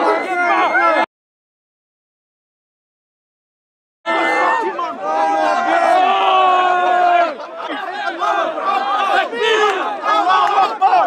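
A crowd at Speakers' Corner in London shouts and jeers at police, loud overlapping yells and chanting voices that cut out into a few seconds of silence, then return and keep going.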